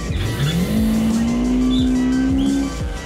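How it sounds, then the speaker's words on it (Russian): Toyota AE86 drifting sideways in BeamNG, a loud engine holding a steady high rev while the tires squeal and skid continuously, close and alone without talk. "Машина даже едет боком."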